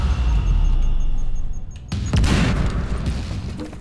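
A grenade blast in the shooter game Quantum Break: a loud, booming explosion with a rumbling tail, then a second sharp burst follows about two seconds later.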